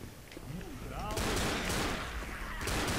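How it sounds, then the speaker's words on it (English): Dual pistols fire in Left 4 Dead during a hallway fight, a rapid string of sharp, close shots mixed with other gunfire and game noise, with people talking over it. "Look at me with my dual pistols"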